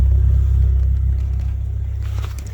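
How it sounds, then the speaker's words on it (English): An Infiniti G37 coupe's exhaust with cutouts burbles at idle with a deep, loud low rumble, steady and close, easing slightly over a couple of seconds. "So this is how the exhaust sounds right now."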